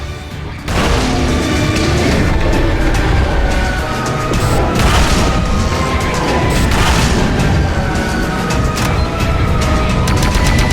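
Cannon fire booms out in the game Serious Sam Fusion, heavy loud blasts and crashes repeating over a dense wall of battle noise and music that runs for the whole stretch.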